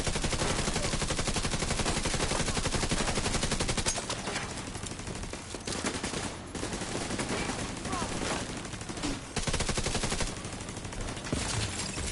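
Dense, continuous automatic gunfire and a grenade launcher in the shooter game The Division 2, loud rapid bursts running almost unbroken for about twelve seconds with slight dips in intensity.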